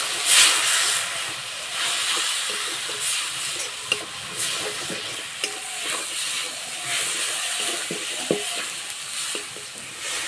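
A little water splashed into a frying spice paste of cumin, coriander and turmeric powder with a pinch of sugar for a fish curry, loud hissing steam and sizzle with stirring scrapes throughout.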